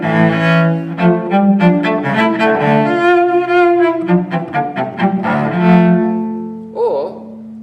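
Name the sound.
cello playing Piatti Caprice No. 4 with whole-bow strokes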